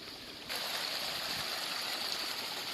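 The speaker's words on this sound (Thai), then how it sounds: "น้ำไหล" Water flows steadily in a stream beside a fish trap, a constant rushing and burbling that grows louder and fuller after a brief moment, with no voices.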